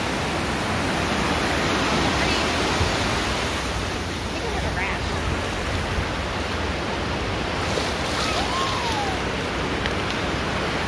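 Steady broadband wash of ocean surf breaking on Coronado Beach in San Diego, a continuous roar of waves with no distinct individual crashes standing out.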